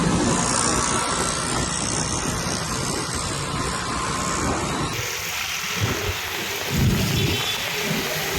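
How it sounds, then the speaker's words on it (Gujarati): A rain shower falls over Vadodara, a dense steady hiss of drops on surfaces, with a deep rumble of thunder rolling underneath and heavier splashes in the second half. "વડોદરામાં વરસાદના છૂટાછવાયા ઝાપટા પડી રહ્યા છે"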